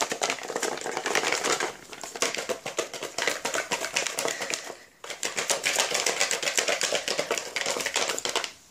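Paper lottery slips shaken inside a lidded container give a dense, continuous papery rattle in two long bursts, with a brief pause near the middle. No one speaks.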